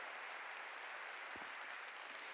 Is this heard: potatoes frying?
no